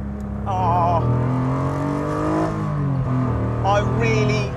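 A Lister Bell STR kit car, a Lancia Stratos replica, drives with its engine droning loud and steady close by, the pitch rising and falling as it changes speed.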